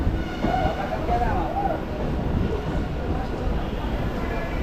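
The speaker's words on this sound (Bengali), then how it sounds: "তো বন্ধুরা এক নম্বরে আমাদের ট্রেন ঢুকছে" A Kolkata circular railway train pulls into platform one at a station, a steady broadband rumble of wheels and carriages that holds for several seconds under a busy platform, with people talking nearby.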